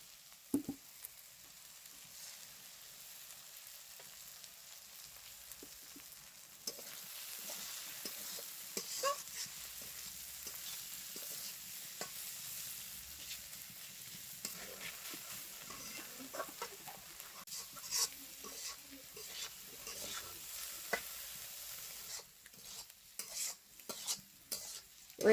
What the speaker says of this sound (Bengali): ভাজা হয়ে আইছে, এখন আমি ডিম ভেঙে দিয়ে দেই।